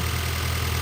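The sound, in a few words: 2000 Honda Civic Si engine idling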